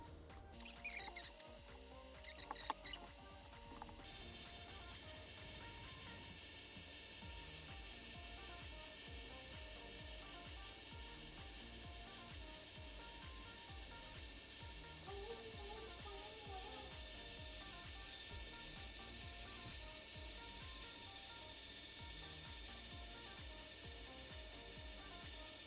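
A mini photo printer, Canon Ivy or Fujifilm Instax, runs its print cycle with a steady whirring motor and rapid ratcheting clicks, close and quiet, after a few brief handling noises.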